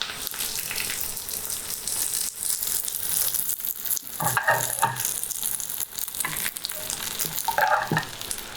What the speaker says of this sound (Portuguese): E vou dar uma refogada.